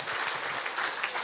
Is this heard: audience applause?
yes